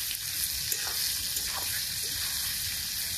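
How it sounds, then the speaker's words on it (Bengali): Vegetables seasoned with salt and turmeric fry in a wok, giving a steady, close hiss and crackle with faint stirring scrapes throughout, no talking. "কড়াইতে সবজি ভাজা হতে থাকে"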